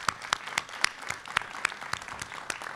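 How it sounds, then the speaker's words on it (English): A middle school graduation class applauds parents and family members, producing a close, sustained round of clapping with sharp individual claps standing out from the crowd. "I'm going to ask our class to please give all of them a round of applause"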